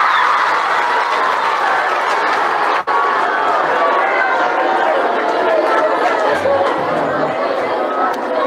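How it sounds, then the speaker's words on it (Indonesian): Audience at a religious gathering honoring a habib's visit clapping and cheering together, a dense, steady wash of applause and crowd noise that stays loud throughout with a brief dip near the middle. "Tepuk tangan."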